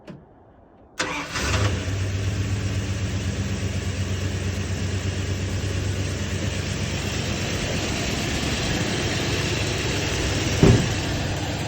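A 1967 Plymouth Barracuda engine on a temporary gas supply cranks briefly, catches, and settles into a steady, loud idle that runs on with a low rumble, with a short bump near the end.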